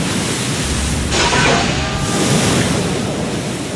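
Broad ocean surf washes steadily across the Atlantic, a continuous roar of breaking waves with a swell that builds around the middle, with no voices.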